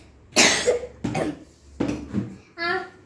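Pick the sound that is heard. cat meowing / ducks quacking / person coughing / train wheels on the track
person coughing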